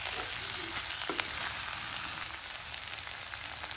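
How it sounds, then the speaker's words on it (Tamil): Cauliflower masala heating in a pan for dosa, a steady soft sizzle and frying hiss close by with a faint stir, no talking. "இப்போ வந்து நான் சூடு பண்ணிகிட்டு இருக்கேங்க."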